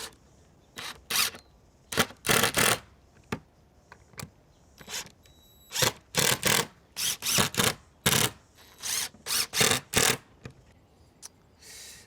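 A power drill drives screws into a timber trestle leg in repeated short bursts, each a whirring buzz lasting about a second with brief pauses between, close and clear with no talking.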